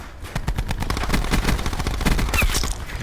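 Rapid automatic gunfire from a KAP 45 in Black Ops 4, a dense burst of close, loud shots lasting a few seconds, with no talking.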